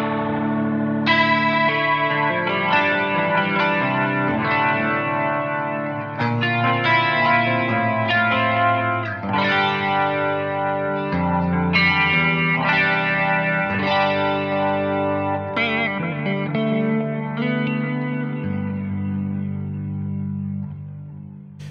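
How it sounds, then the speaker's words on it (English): An electric guitar runs through the Kemper's rotary speaker effect, its sustained chords swirling and warbling loudly with a chorus-like shimmer and no talk. "there's a really cool rotary speaker in the Kemper."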